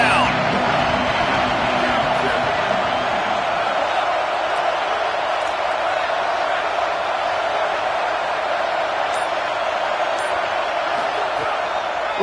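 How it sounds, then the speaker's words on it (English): Stadium crowd roaring steadily through a third-down defensive stand at a football game, a dense, continuous wall of cheering and babble that holds at high volume without letting up. "Crowd getting this defense whipped up on third down"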